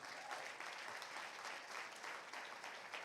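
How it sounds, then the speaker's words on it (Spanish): Church congregation applauding during a sermon, steady even clapping from many hands, fairly faint and distant, continuing throughout without speech. "Bríndele un aplauso al Señor."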